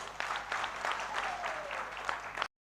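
An audience at a youth conference in Uganda claps for a couple of seconds, a light, scattered patter that sounds somewhat distant and quiet before cutting off abruptly.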